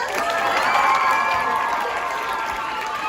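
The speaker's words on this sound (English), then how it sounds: "give her a round of applause" An audience at a church vacation Bible school play night applauds and cheers for a contestant, a steady wash of clapping mixed with crowd noise and children's shouts, sustained and fairly loud throughout.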